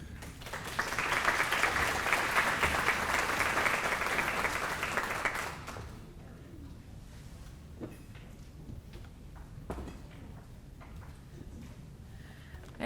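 An audience at a city employee recognition awards ceremony applauds the mayor with a loud, dense burst of clapping that cuts off fairly abruptly, leaving quiet room noise with a few faint knocks and scattered sounds.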